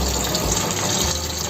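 Water gushes steadily out of the drain line of a six-stage reverse osmosis water purifier. The flow is close, loud and constant, with a pump-like hiss running throughout.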